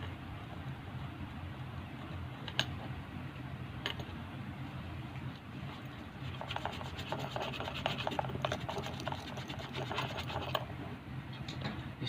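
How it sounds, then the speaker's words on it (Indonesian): Tissue or cloth rubbing a rusty wristwatch clean, a continuous close scratchy rasping that grows a little busier partway through, with no talking. "Setelah itu kita gosok pakai tisu boleh ataupun pakai kain juga boleh."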